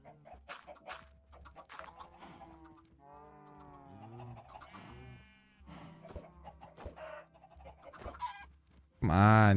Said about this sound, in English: Chicken farm has been accomplished.